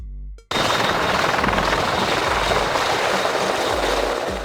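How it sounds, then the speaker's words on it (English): A loud search and rescue helicopter roars in abruptly and holds steady, rotor chop and engine whine filling the scene without any voices. "Search and rescue helicopter."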